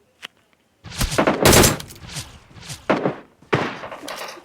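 Gunfire in the video game PUBG comes as a single early shot followed by a loud, close burst of rapid automatic fire, then several more shots in quick clusters.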